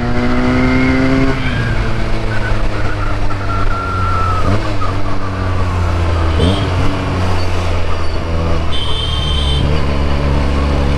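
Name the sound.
Royal Enfield Bullet motorcycle engine thumping on the road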